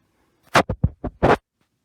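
Wet sourdough starter scraped into a bowl with a dough scraper: five short, close scraping strokes in quick succession, then quiet, with no talking.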